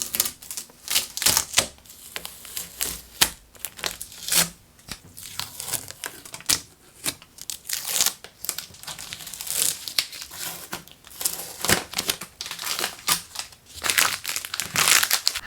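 Packing tape is handled, pulled and torn near the microphone during a furniture flip. Close, loud crinkling and sharp ripping bursts come in an irregular rhythm, with brief pauses between pulls.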